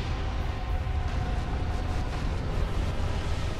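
A boss's explosion attack in Dark Souls erupts as a loud, sustained roaring blast with dense rumbling noise throughout, with no voices.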